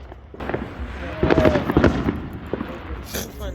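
Fireworks pop and crackle in rapid bursts outdoors at moderate distance, with a cluster of sharp bangs in the middle, while people talk over the noise.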